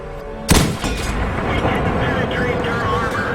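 A single heavy tank cannon blast from a Crusader in a video game rings out sharply, followed by a lingering rumble and battle noise that continues steadily afterward.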